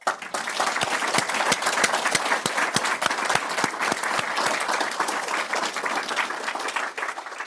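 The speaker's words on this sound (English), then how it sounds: "I would ask you to please join me in another round of applause for our two speakers." Sustained applause from an audience at a talk on the Irish language in Liverpool, thanking two speakers, a dense steady patter of many hands clapping that holds at an even level throughout.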